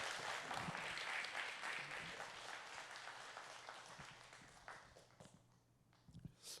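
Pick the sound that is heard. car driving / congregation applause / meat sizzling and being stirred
congregation applause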